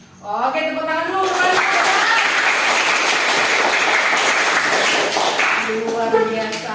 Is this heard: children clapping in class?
yes